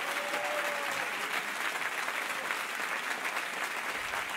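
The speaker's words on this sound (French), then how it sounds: "Ah ben ça tombe bien que vous m'applaudissiez" An audience applauding at a political speech, dense sustained clapping from a large crowd, loud and steady throughout.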